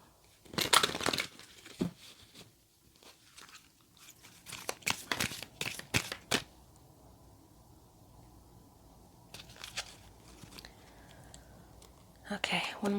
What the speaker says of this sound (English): Let's give that one more shuffle.